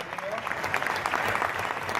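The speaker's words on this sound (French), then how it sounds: "Vous pouvez applaudir très fort." An audience claps loudly at a sports-of-nature award ceremony honouring a double world champion, a continuous full round of applause held at steady strength from start to finish.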